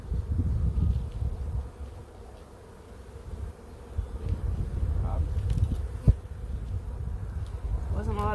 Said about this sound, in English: Sounds like there's bees in there though.